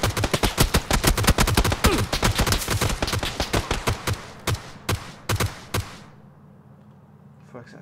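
Gunfire in the battle royale game PUBG: rapid, loud bursts of automatic shots in a steady rhythm that thin into a few spaced single shots before stopping, leaving a quiet tail.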